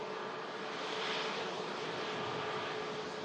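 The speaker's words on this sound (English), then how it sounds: "There's the Pegasus arrival." A Pegasus airliner arriving at Manchester Airport during Storm Lilian, with a steady broadband engine roar and wind-driven rush holding constant and fairly loud, no voices.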